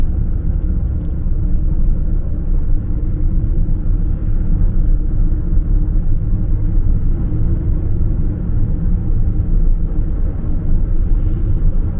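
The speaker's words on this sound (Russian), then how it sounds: "Пойдем на разгон." A car speeds up on an open highway, heard from the cabin as a loud, steady, low road-and-engine rumble that fills the whole stretch without a break.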